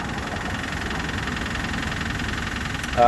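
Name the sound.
Pontiac engine knocking from a bent rod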